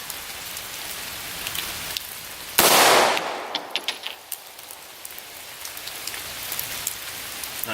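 A single 9mm handloaded pistol shot fired from a rest at a range, one sharp loud crack with a rushing tail, followed by small clicks and handling sounds with no voices.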